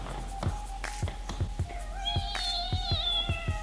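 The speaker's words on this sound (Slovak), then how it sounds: "zavrli už tú mačku preč, nekam, Roman." A cat meows repeatedly, its drawn-out calls rising and wavering over a steady rhythm of dull taps and thumps, fairly close, with no talking.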